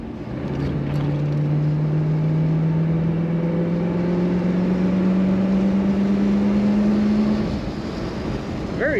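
A 1963 Ford Galaxie 500 convertible with an automatic transmission drives with the top down, its smooth engine tone rising steadily as it accelerates, then easing off near the end.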